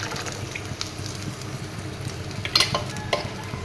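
Water added to a hot pan of fish curry cooking with cumin and spices, giving a soft, steady sizzle and bubbling at low level, with a few sharper splashes and clinks near the end.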